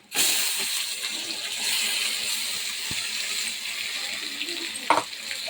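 Ground leaf paste hits hot oil with garlic in a home kitchen, giving a loud continuous sizzle and hiss that starts abruptly and keeps crackling steadily, with a brief clatter near the end.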